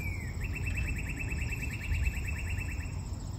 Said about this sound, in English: Can you all hear the birds chirping?